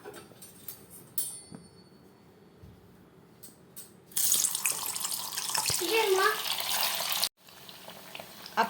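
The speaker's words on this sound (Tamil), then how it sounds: "ஆயில் சூடாகிடுச்சு நம்ம ஒவ்வொரு பன்னீராக இதில் சேர்த்துக்கலாம்" Paneer pieces go one by one into hot oil, setting off a loud, close sizzle that starts suddenly midway and cuts off sharply. Quieter kitchen sounds come before and after it.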